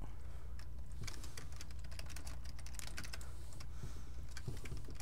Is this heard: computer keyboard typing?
yes